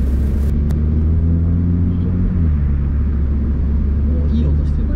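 A front-wheel-drive hot hatch, Honda Civic Type R or Renault Mégane RS, switched into sport and then race mode, holds a steady, loud engine drone heard from inside the cabin, its pitch climbing slightly midway.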